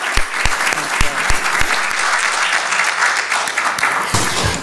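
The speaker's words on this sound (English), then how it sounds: "Please join me in applauding him and thank you for his time" A forum audience applauds a school board candidate, a loud, dense burst of clapping from many hands, with a few sharp claps up close at the start.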